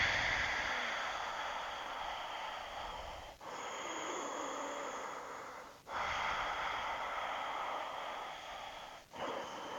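Deep, slow breaths during a yoga exercise, heard up close as long, airy rushes with brief pauses between them, the last one ending in a sharper intake. No speech accompanies them.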